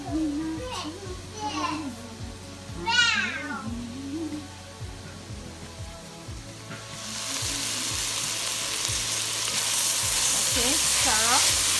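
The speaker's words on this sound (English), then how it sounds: "stir up my veggies" Vegetables and cauliflower rice fry in a pan for keto cauliflower fried rice. A steady sizzle swells loudly in the second half under a voice and background music.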